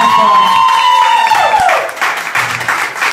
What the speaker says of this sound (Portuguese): Uma salva de palmas, Ana Paula.